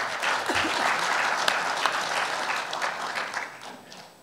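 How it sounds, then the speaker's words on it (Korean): An audience at a policy forum on North Korea applauds to welcome a center director, sustained even clapping from many people that fades slightly toward the end. "여러분 이영종 센터장님을 큰 박수로 환영해 주시면 고맙겠습니다."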